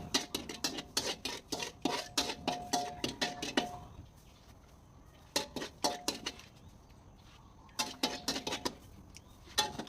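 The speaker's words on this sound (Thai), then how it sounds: "ใส่ไปนิดนึง แล้วคนให้เข้ากันแก คนให้เข้ากัน" Larb with toasted rice is stirred in a pan, with quick rhythmic clinks and scrapes of a utensil against metal coming in bursts with short pauses, close and clear, no voices.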